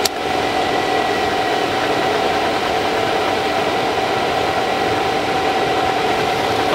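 A furnace burner, lit with a sparkler for a melt test, roars in a loud, steady, unbroken rush that holds at one level throughout, with no voices.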